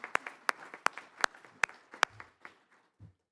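An audience at a college awards ceremony claps in a round of applause, a run of sharp, fairly close claps forming a brief burst that thins out and fades within a few seconds.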